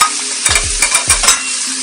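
Spring onions being stir-fried with noodles in a hot pan: repeated scraping, tossing stir strokes over a steady loud sizzle, close and continuous, with no voices.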